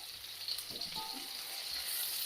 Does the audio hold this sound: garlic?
yes